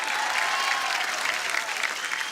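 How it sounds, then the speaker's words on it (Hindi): A studio audience at a Hindi television game show bursts into loud, dense applause, an even wash of many hands clapping for just over two seconds without any voices. "जोरदार तालियां।"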